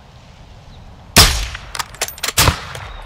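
A sniper rifle fires in Call of Duty Modern Warfare 2, two loud sharp cracks about a second apart, with a rattle of smaller metallic clicks and knocks between them against quiet background.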